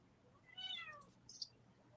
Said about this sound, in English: Oh, I heard a cute little meow.